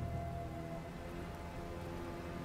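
Rain falls steadily on surfaces in a soft, continuous patter, fairly faint and distant, with no voices.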